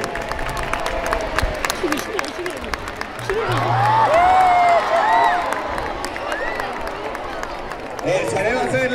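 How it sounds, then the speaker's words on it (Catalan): A street crowd at a Three Kings parade claps and cheers in a sustained, swelling burst, with children shouting and an announcer speaking over a loudspeaker amid the noise. "Aplaudiu!"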